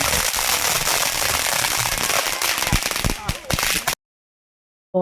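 Firecrackers burst in a dense, rapid crackling string during an Eid celebration, loud and close, thinning into scattered sharp pops before abruptly cutting to silence.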